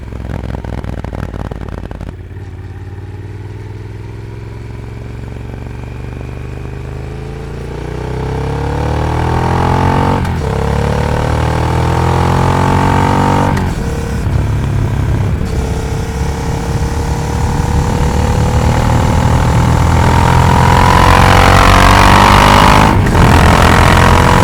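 Motorcycle engine recorded on a test microphone setup while riding, revving up through gears with rising pitch, heavy wind rumble building as speed increases, loud and close throughout.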